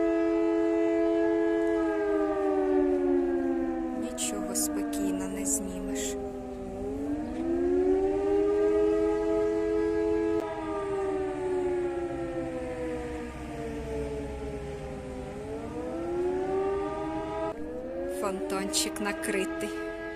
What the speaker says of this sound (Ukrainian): як завжди, почалися сирени